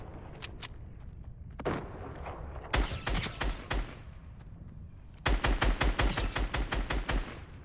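Rapid bursts of Fortnite gunfire, scattered single shots early, then a loud sustained volley of repeated shots near the end.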